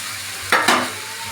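Spices and soybean curry with potatoes fry in a pan under a steady sizzle, with two quick scraping stirs of a spoon partway through, close and with no voices.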